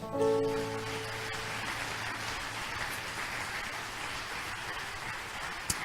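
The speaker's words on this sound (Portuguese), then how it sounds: "Pode dar aplauso ao Rei." A church congregation applauds during a Sunday celebration service at a Baptist church in Francisco Beltrão, a dense, even roar of many hands that holds steady throughout, with a fading musical chord at the start.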